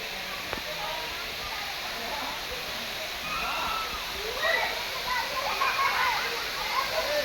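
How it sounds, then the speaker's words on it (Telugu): Continuous rushing water from the Paladhara Panchadhara waterfall near Srisailam fills the background, a broad steady roar with faint splashing, no talk. "అటు చూడండి నీళ్ళు."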